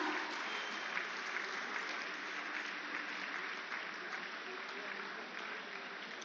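Sustained applause from a large audience at the flag-off of the Kashi Tamil Sangamam Express train, dense steady clapping filling the whole stretch at an even level with no pause.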